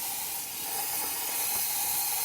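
A steady, loud hiss of steam jetting from a Rancilio espresso machine wand, continuous throughout with little change.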